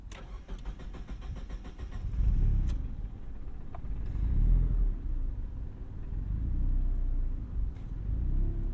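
Tuned Mazda Miata making 240 wheel horsepower, driven on the road: a low, steady engine rumble that swells and eases in gentle waves of throttle, close and continuous with no talk.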